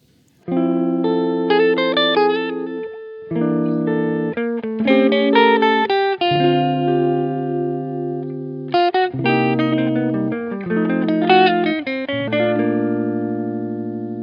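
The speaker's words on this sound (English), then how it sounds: "Here's an example of how This simple way of improvising would sound over the first 4 bars of the song." Chords sound on a keyboard-like instrument while a bright melodic line improvises over them in short runs and phrases, clean and close with slight reverb.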